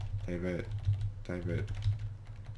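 Quick bursts of typing on a computer keyboard, soft close clicks running under a voice as he speaks through the short stretch.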